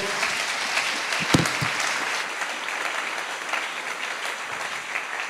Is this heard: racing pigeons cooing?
no